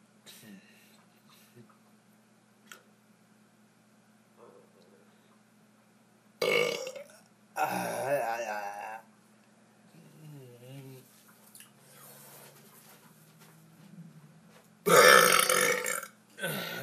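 Long, gurgling, close-up burps erupt in a few separate loud bursts, with quiet stretches and small clicks and breaths between them.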